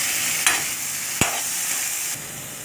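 Boiled white peas are stirred into a frying pan for Navaratri sundal: a steady sizzle broken by three short, distinct spoon scrapes.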